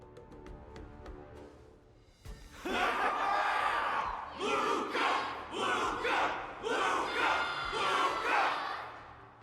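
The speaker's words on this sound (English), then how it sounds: "Everyone's cheering for you, Luca!" A large crowd roars and cheers loudly and continuously, swelling in repeated waves of shouting, after a brief quieter lead-in with faint tones.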